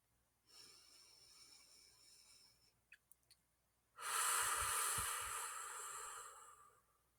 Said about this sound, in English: We're going to take a minute and breathe.